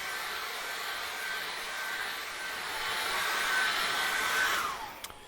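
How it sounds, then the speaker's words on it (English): A hairdryer blows steadily to dry acrylic paint on a painted mountain card, a loud, close, continuous whooshing roar that swells slightly before winding down and cutting off near the end. "Let's get my hairdryer on"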